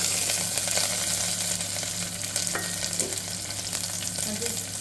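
Onions, green chillies and carrot frying in oil for a mint and coriander pulao, a dense, steady sizzle with a constant low hum underneath and faint stirring taps, close and fairly loud, without any voices.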